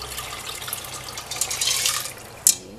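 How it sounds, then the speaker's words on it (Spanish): Water pours into a small pot while making tamarind agua fresca, a continuous splashing stream with rising intensity and a brief sharp splash near the end, close and without speech. "Aquí en la ollita le vamos a agregar otro litro"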